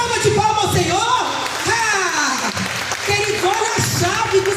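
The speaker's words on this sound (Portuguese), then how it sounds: "dá uma salva de palmas ao Senhor" Church congregation clapping during a Sunday morning service, a dense, steady wash of applause lasting several seconds, with voices and cheering mixed in throughout.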